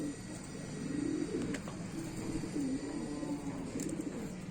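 Small kaldume and kalpare pigeons, including a tiny crested male, coo in low rolling phrases close by, a soft continuous murmur of calls with faint background noise.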